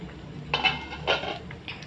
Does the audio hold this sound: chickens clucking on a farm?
no